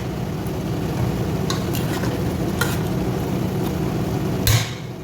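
Mutton sizzles in hot oil in a pan while it cooks for a drumstick and potato mutton kulambu, a steady close crackle broken by scraping stirs and a few sharp utensil clinks, with no talking.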